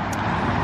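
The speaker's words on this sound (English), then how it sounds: "please excuse the background traffic noise" Continuous traffic noise from a nearby major street, a dense steady rumble of cars with a brief high tick near the start, no voices.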